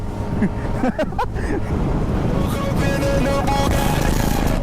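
Motorcycle riding on an open road, a steady engine drone mixed with strong wind rush, with brief whistled or vocal notes near the start.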